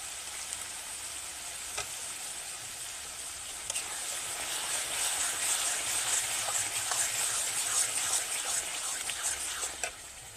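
Spice masala for a snakehead fish curry sizzles and fries in oil in a pan, a steady bright hiss that swells louder midway, with occasional stirring scrapes and no talk.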